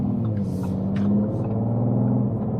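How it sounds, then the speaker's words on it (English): A 2021 Audi RS4 Avant facelift (331 kW, quattro) with a sports exhaust gives a steady, low purring drone, moderately quiet and unbroken, with no one speaking. "the absolutely amazing note that this car gives out. It's got a sports exhaust that kind of purrs very nicely"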